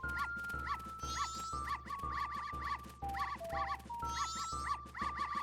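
Repeated small dog barks from the dog race in Zelda: Majora's Mask, a steady string of chirpy game-sound yips over looping music with a bouncy rhythm, no talk.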